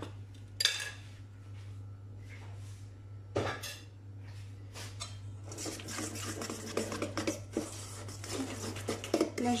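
Baked cauliflower being stirred together with herbes de Provence and paprika in a dish, producing repeated scraping and clinking of a utensil against the bowl that grows busier and more continuous toward the end, with no voices.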